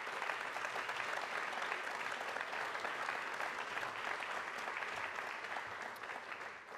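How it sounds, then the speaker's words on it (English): Audience applause at an arts and humanities awards ceremony, a dense steady clapping from a large crowd that holds for several seconds and tapers slightly at the end, with no talk over it. "Please give a big round of applause for Sarah and her creativity."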